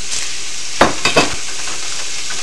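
Browned ground beef in a skillet is stirred together with celery, olives and onions, a loud steady frying sizzle with three quick scraping strokes near the middle.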